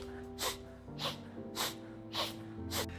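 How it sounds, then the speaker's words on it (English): Strelnikova breathing exercise: five sharp, fast, energetic sniffs in through the nose, evenly spaced about every half second, close and distinct over soft background music. "it is performed on a sharp, fast, energetic breath through the nose"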